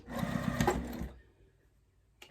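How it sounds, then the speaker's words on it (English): Sewing machine back stitching a quilted table runner, a short burst of close, fast mechanical whirring that stops after about a second, followed by near silence and a brief click. "I'm going to back stitch"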